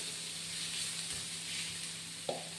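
Chicken with chili powder, green chili and garam masala sizzles steadily in a pan for an egg and chicken omelette, a constant close frying hiss with one brief clack near the end.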